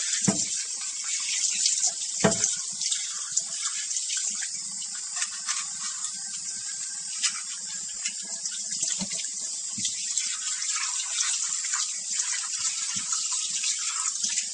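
Slow juicer parts being rinsed under a running tap, a continuous hiss of water from the faucet with small clinks and knocks of the plastic pieces being handled.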